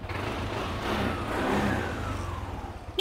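A used motorcycle's engine runs steadily at a smooth idle, then rises gently in pitch as it is revved and eases back down, close by and continuous, with no talk over it.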